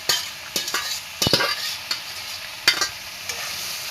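Local chicken meat being added to a frying pan and stirred, with soft sizzling under a series of scraping, clinking stirring strokes, a few sharper spoon knocks standing out.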